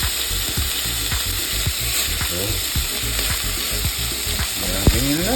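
A small beef burger patty sizzles and fries in a pan, steady crackling hiss throughout with spatula scrapes and stirring clicks, while a voice speaks briefly over it.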